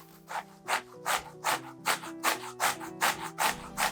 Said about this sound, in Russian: Кабачки натираем на крупной терке.